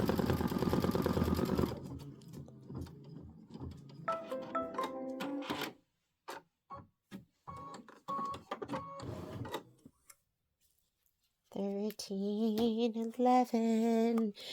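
An Aveneer embroidery machine stitches a Boo Manor tile in bursts: rapid clattering needle runs broken by pauses and near-silence, then a final stretch of rhythmic whirring stitches, all close up and alone.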